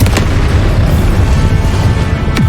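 A Confringo blasting curse from Hogwarts Legacy goes off as a loud, rumbling explosion with deep booming low end, sharp bursts at the start and near the end, continuous and close.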